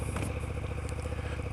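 A 2020 KTM 1290 Super Duke GT with its standard exhaust idles and runs steadily nearby, a deep pulsing engine burble with rapid regular firing beats and some light mechanical clatter.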